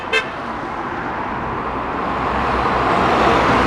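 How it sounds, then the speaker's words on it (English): Cars driving past on a street in Blackpool, a steady broad traffic roar that swells gradually as vehicles pass close by, with a brief horn toot near the start. "We're going to wait for these cars to go past"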